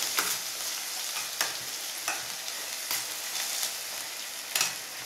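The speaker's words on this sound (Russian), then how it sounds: "И начинаем его жарить." Chopped onions frying in oil in a pan, stirred with a spoon: a steady sizzle with sharp scraping strokes at intervals, close and alone.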